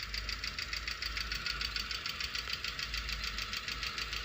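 Rapid, steady ticking comes from engine valve tappets knocking. It sounds like a fast metallic clatter riding over a low idling hum, close and continuous with no talk.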